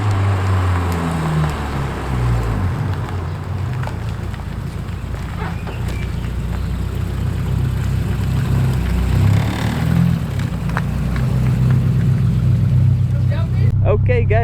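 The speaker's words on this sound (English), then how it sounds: "Just a casual Honda race car coming down the street in a quiet" Honda B20 VTEC track car with individual throttle bodies drives along a quiet neighbourhood street, its engine note rising and fading across the clip under a voice talking.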